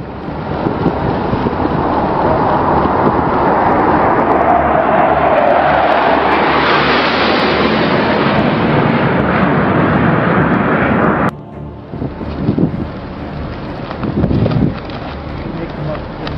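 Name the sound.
aircraft coming in low over a ship's flight deck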